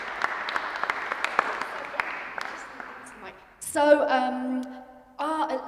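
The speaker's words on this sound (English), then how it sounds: "One more round of applause for that haunting thing" An audience applauds after a performance at a student concert, clapping that thins out over three seconds before a voice speaks clearly over the fading claps.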